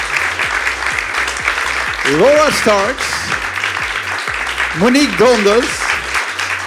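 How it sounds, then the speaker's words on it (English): An audience applauds panelists after a discussion of shareholder power over companies, with sustained clapping while a voice reads out names over it. "So give them another round of applause"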